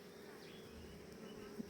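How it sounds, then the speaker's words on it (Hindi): Indian honey bees (Apis cerana indica) buzz around wooden hive boxes on a farm, a faint, steady hum of many insects with no talking. "सरसों के बाद अब देखिए आप मधुमक्खी इंडिका जो"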